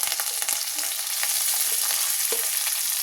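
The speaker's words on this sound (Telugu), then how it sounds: "ఇవన్నీ ఒకసారి బాగా ఫ్రై చేసుకుందామండి." Onion, curry leaves, mustard seeds and cumin seeds fry in hot oil, giving a steady, close, loud sizzle with faint stirring scrapes and no voices.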